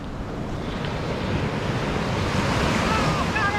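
Ocean surf breaks continuously at New Smyrna Beach, Florida, a steady loud wash of waves mixed with wind buffeting the microphone and no clear speech.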